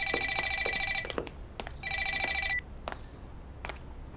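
A telephone ringing with two bursts of a bright electronic trilling ring, each about a second long, separated by short gaps and scattered clicks and knocks in a quiet room.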